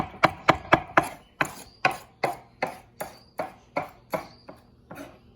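A knife chops capsicum on a board in a kitchen, about a dozen crisp, evenly spaced strokes, close and clear with no talking.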